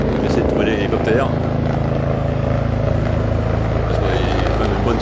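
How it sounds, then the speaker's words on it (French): A helicopter circles over a farmers' blockade at a toll plaza on the French-Spanish border, its steady throbbing drone constant and fairly loud beneath people talking. "j'essaie de trouver l'hélicoptère"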